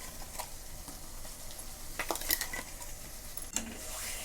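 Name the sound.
frying ground masala paste with onion and tomato in oil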